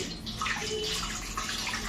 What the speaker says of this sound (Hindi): बाकी सादा पानी जो आता है वो ऐसे भर लीजिए